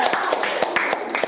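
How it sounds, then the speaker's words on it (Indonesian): A small classroom group claps briefly for a three-student group after their presentation, a few sharp, slightly uneven hand claps close by over about a second. "Tepuk tangan dulu untuk kelompok"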